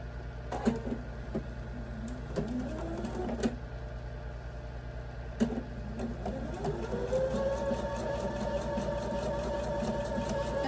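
A sewing machine whirs steadily while joining quilt block pieces, with a low motor hum and occasional sharp clicks, the stitching run building toward the end.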